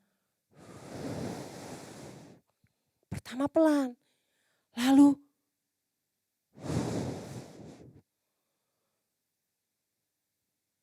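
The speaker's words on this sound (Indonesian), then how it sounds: "Ada suara angin. Angin datang." A voice-made wind sound effect in a children's Pentecost service, soft breathy whooshes that rise and fade twice, with brief spoken words between them.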